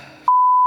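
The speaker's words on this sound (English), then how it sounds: "Your HomePod is about to reset. Keep pressing until you hear 3 beeps." Apple HomePod second generation giving a single loud, clean electronic reset beep that starts abruptly after a brief murmur and sustains as one steady tone.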